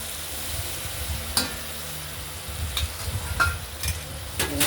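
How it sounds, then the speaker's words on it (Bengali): Tomatoes and spices frying in a pan with rohu fish and potatoes for a fish curry, a steady close sizzle broken by a few sharp stirring clinks and scrapes, with no talking. "এবার টমাটো আর মশলা একসঙ্গে দিয়ে দিলাম"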